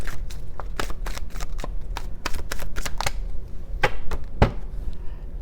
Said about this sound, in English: Just shuffling a little.